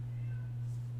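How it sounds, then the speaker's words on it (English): A faint, brief meow rises over a steady low electrical hum, with no other sounds nearby. "If you hear a cat meowing"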